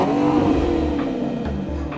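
A Maserati's engine rises in a short rev as the throttle is pressed, a close, steady rumble with a brief surge near the start, then settling.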